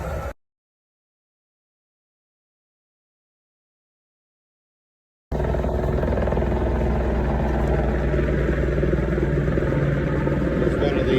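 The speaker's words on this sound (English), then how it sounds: "There's one of the choppers, the 12-metre concrete power pole line underneath it, trying to get it in the site." A helicopter lifting a 12-metre concrete power pole on a line underneath, heard as a steady thudding rotor and engine roar nearby after several seconds of silence, on a wet, cold construction site near Glenorchy.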